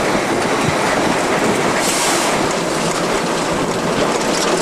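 A Chinese SY 2-8-2 steam locomotive works at the Tangshan coal mine, heard close from the tender as a loud, continuous rhythmic clickety-clack of wheels on rail with heavy rumbling and brief squeals, no talking.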